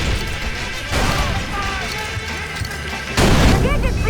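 Frag grenades exploding in the Far Cry 4 PC game, with heavy booming blasts and crashing debris over a dense rumble, one big burst rising near the end, mixed with talk.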